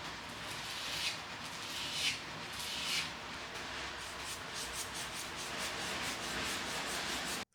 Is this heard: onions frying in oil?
no